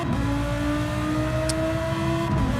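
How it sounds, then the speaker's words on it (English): A Lamborghini Huracan V10 in a racing game holds a steady loud engine drone with sustained harmonic tones, briefly shifting pitch near the end, without talk. "the V10 is still the best grunt noise from the engine for this Huracan"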